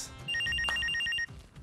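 A telephone rings with a rapid electronic trill, one burst of evenly spaced chirps, clear and close over a low background hum.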